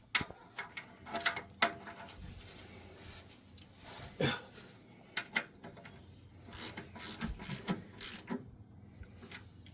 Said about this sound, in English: I can't really get a ratchet on that, but I got it snug